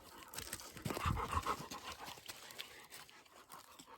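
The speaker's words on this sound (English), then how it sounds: "Remember this dog?" A dog panting in quick rhythmic breaths close by in a home, with a few soft shuffling sounds and faint whimper-like noises.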